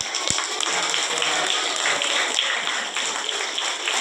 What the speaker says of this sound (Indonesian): kita tepuk tangan untuk lihat tangan Rusia